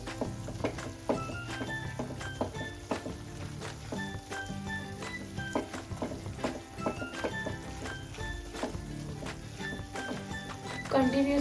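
Moong dal frying in a pan for halwa, a soft steady sizzle with repeated scraping taps of stirring, quiet and close, with a voice talking over it.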